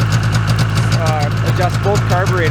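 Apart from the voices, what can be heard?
Yamaha Vmax 600 snowmobile engine idling after first start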